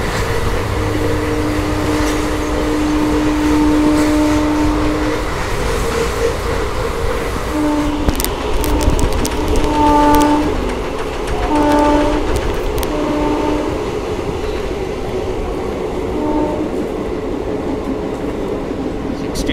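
A passenger train on the Mysuru–Bengaluru route runs steadily near a station with continuous rail rumble, and a horn sounds several times in short tonal blasts midway through.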